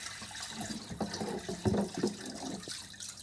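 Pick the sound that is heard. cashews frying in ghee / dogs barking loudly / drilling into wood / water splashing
water splashing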